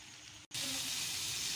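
Chicken tawa pieces sizzling on a hot griddle, a sharp, steady hiss that starts suddenly after a brief silence and continues loud and close.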